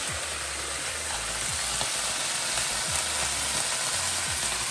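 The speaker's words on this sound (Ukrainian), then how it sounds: "Тільки наша печіночка вже обсмажилась, е, лишня волога вийшла." Chicken liver sizzles and fries in a pan while it is cooked for pâté, a loud, steady crackle with faint periodic clinks and low thumps underneath.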